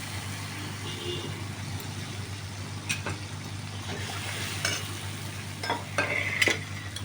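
Spices frying in oil while being stirred, a faint steady sizzle under a low hum, with a few scraping stirs.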